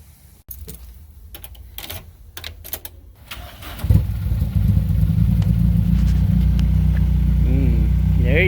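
A Geo Metro (Suzuki Swift) fitted with a swapped 4AGE engine cranks over after some key and handling noises, catches, and settles into a loud, steady idle close by, with a couple of brief rising revs near the end.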